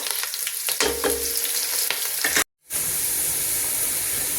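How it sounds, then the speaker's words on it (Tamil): Onions sauté in a pan with a loud, continuous sizzle and hiss, stirred with occasional scraping knocks, broken by a brief silent cut before the frying noise resumes. "வெங்காயம் கொஞ்சம் நேரம் நல்லா வதங்கட்டுங்க"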